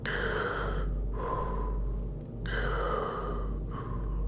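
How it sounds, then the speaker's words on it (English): Heavy breathing, loud and close, repeats in long rasping inhale-and-exhale cycles with short gasping pauses between them, in a scary deep-woods setting. "You hear heavy breathing."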